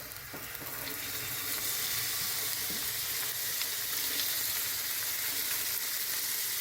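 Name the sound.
chickpeas sizzling in a pan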